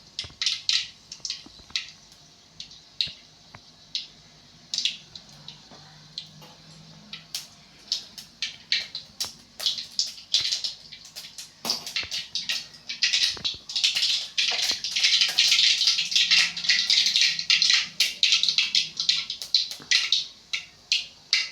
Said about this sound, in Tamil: ஆல்ரெடி ஆயில் சூடாகிடுச்சு இல்லையா, அதனால் கடுகு படப்படன்னு பொரியுது பாருங்கள்